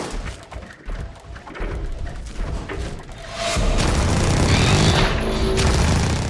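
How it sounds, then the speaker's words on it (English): Mecha robots firing heavy guns in the creature game Carrion, a sustained barrage of rattling gunfire and booms that swells louder midway, with no voices. "the enemies also bring out their big guns in the form of these mecha robots"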